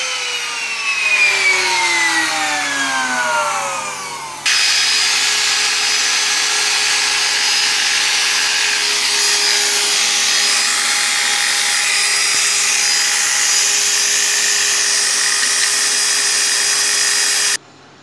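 A grinder and a profile-cutting machine run together on household power boosted by an automatic power-adding device, giving a loud, steady, high-pitched mechanical whine throughout, after an earlier motor winds up and is joined mid-clip by the second machine.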